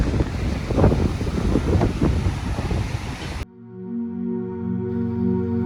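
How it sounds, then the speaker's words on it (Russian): Strong warm wind on a beach at Los Gigantes, Tenerife, roars and buffets loudly for a few seconds, then abruptly cuts to a quieter steady tonal hum. "Ветрено очень, но ветер такой приятно теплый."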